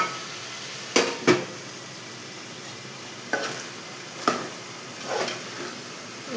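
Country chicken frying in a pan, a quiet steady sizzle broken by a few sharp clinks and scrapes of a spoon against the metal, close by, with no talk.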